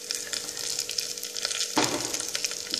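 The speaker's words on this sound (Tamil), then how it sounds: "பூண்டு வெங்காயம் இதெல்லாம் போட்டு நல்லா வதக்கணும்" Garlic and onion sauté with lentils in a pan for a bottle gourd masiyal, giving a steady close sizzle with a brief louder burst of frying partway through, no voices.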